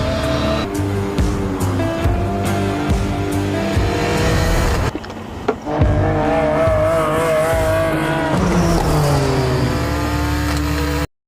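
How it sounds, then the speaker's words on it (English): Ken Block's Hoonipigasus, a 1400-horsepower custom Pikes Peak hill climb race car, screams through hard revs with tire squeal. The engine drops off briefly near the middle, then roars back up loud and close, with no talk. "this 1400 horsepower monster is a custom one-of-a-kind hill climb race car built by Hoonigan Racing Division and BBI Autosports"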